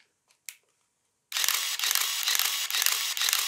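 Nikon camera shutter fired with no film loaded: a single faint click, a brief sharper snap, then about two seconds of dense, continuous high-pitched mechanical whirring, close and fairly loud.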